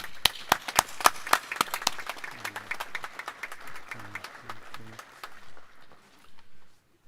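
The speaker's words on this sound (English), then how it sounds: "let's give them a round of applause" Scattered outdoor applause at a Memorial Day ceremony: individual hand claps ring out clearly, then thin and taper off to silence after about five seconds, with faint voices murmuring underneath.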